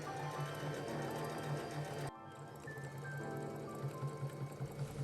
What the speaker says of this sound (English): I'm going to stitch along those lines that we've traced